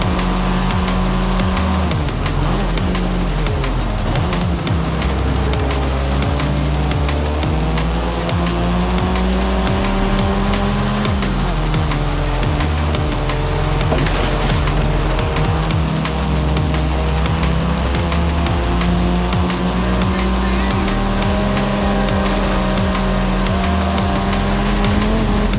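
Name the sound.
race cars racing in video game Forza Horizon 5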